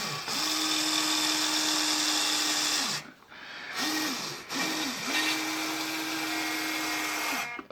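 The motor of a Huina 580 RC excavator whirs close by as the bucket extends, a thin electric whine in three runs separated by short pauses, the middle run brief.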